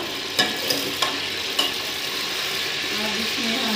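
Hot oil sizzles steadily in a pan for a moong and masoor dal tadka, a constant close hiss with a few light clicks early on.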